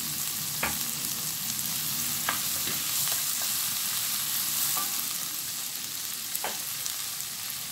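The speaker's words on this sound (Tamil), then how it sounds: "இப்போ தக்காளியை வந்து நல்லா குழைய வதக்கணும்." Tomatoes and onions sautéing in a pan for a drumstick-leaf lentil dumpling kuzhambu, a steady soft sizzle broken by scattered sharp clicks of stirring, close and alone without speech.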